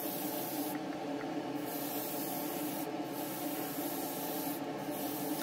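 A spray gun lays a wet coat of paint onto a Revell 1:24 Shelby Mustang GT350H model car body, a quiet, continuous hiss that runs unbroken for several seconds.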